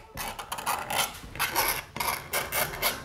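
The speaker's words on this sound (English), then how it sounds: "I'm gonna take and scratch it up here and there with my X-Acto knife, like so." An X-Acto knife scratches and scrapes across a cheap plastic Halloween mask in a series of short, raspy strokes, close and moderately loud, with brief pauses between bursts.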